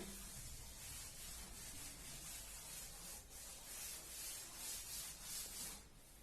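A board eraser rubbing out chalk or marker writing in a classroom, a steady broadband scrubbing that runs for several seconds at a soft, even level, with no voices.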